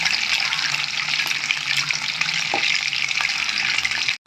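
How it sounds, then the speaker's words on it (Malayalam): Mustard seeds crackle and splutter in hot oil in a pan, a dense, continuous sizzle with scattered pops at close range, no voices. "ഒരു സ്പൂണ് കടുക് ഇട്ട് കൊടുക്കാം അപ്പോൾ കടുക് പൊട്ടി വരുന്നത് വരെ നമുക്കൊന്ന് വെയിറ്റ് ചെയ്ത് കൊടുക്കാം"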